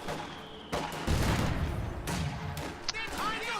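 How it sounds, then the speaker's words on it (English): Rifle grenade firing in a World War II strategy game match, a sharp launch followed by heavy blasts and crackling gunfire, loud and close, with a voice talking underneath. "that rifle grenade was nasty"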